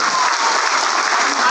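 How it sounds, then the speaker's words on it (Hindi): Children clap loudly together in a crowd, a thick, continuous roar of applause close at hand. "बच्चे जोरदार तालियां बजाइए"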